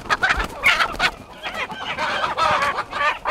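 Chickens being caught by hand on a large poultry operation squawk and cluck loudly in a close, frantic chorus of overlapping cries, with no talking.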